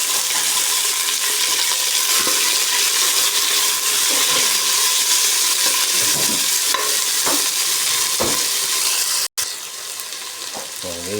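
Tomatoes frying in a pan for squid adobo with lemongrass, a loud, dense, constant sizzle with occasional stirring scrapes and a brief break near the end.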